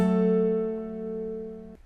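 On acoustic guitar, a bass note is plucked together with the third and second strings. The single chord rings out clearly and sustains before being cut off just before the end, with no voices present.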